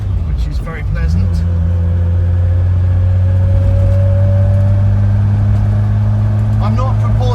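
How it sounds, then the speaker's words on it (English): Interior of a Triumph Vitesse on the road, a loud steady low engine boom with a thin rising gearbox whine layered over it, continuous throughout while someone talks. "Quite a boom from it. Bit of gearbox whine, which is very pleasant."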